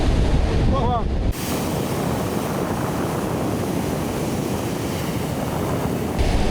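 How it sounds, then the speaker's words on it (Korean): Ocean waves break against the cliffs of the Peruvian coast, a loud, continuous roar of surf mixed with heavy wind rumble on the microphone. "와, 파도 치는 거 봐."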